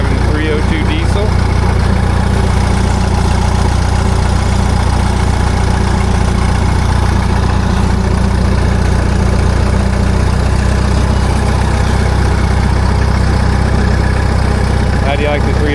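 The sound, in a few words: Minneapolis-Moline 302 diesel tractor engine running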